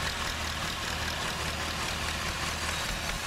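A tractor engine idling in Farming Simulator 2013, a steady low rumbling drone with a faint knocking texture, close and constant, no talking.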